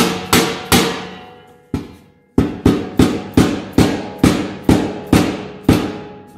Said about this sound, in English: I'm tapping this front panel down until my holes line up perfectly